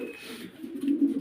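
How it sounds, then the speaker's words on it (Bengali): Lahori pigeons cooing up close, a low soft rolling coo that swells and grows louder over about a second. "দুইটা লাহরি কবুতর আছে"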